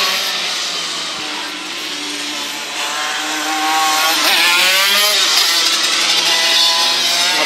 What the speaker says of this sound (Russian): Заводит карт и двигает дальше